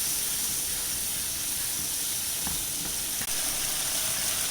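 Shahi paneer gravy cooking on high flame gives off a steady, close hiss and sizzle that holds evenly throughout, with a brief tap near the end.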